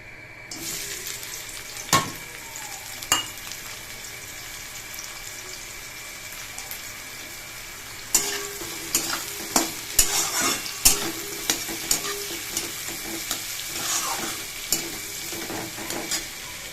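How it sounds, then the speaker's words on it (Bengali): Onions sizzle in oil left over from frying potatoes while a utensil stirs them, giving a continuous frying hiss broken by sharp scraping knocks that grow frequent in the second half. "আলু ভাজার তেলেই আমি পেঁয়াজটা ভেজে নিচ্ছি"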